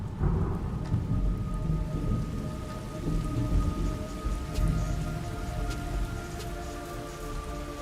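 Steady heavy rain pours down in a video game with low rumbling thunder rolling underneath, dense and continuous throughout.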